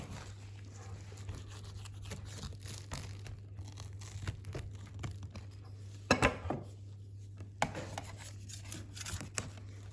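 A knife saws through a slice of soggy-bottomed puff pastry, quiet scraping and crackly rasps with a couple of sharper crunches, over a steady low hum and no talking.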